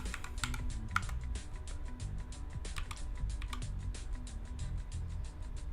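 Fast, continuous typing on a computer keyboard during coding, with light clicky keystrokes in an uneven rhythm. The sound is close but quiet, and nobody talks over it.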